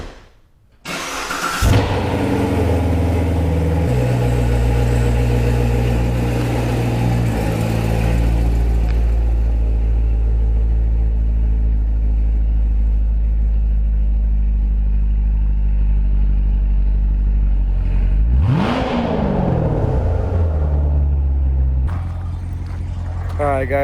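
A car engine starts and idles steadily and loud throughout, with a brief rev rising near the end before settling again; no talking is heard.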